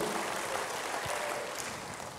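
A church congregation claps for God during a sermon, a steady wash of hand-claps that stays faint and distant for the whole stretch with no voices over it.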